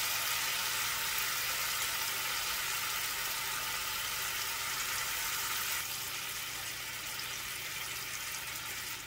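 A garlic ginger glaze sauce sizzles steadily with salmon in a pan as it warms and reduces, a soft, continuous hiss throughout with no talking.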